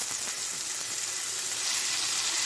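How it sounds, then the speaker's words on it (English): Pork chops searing in butter in a pan, a dense, steady sizzle close up, continuous and fairly loud, with no one speaking. "Now we want to sear these about 2 minutes each side."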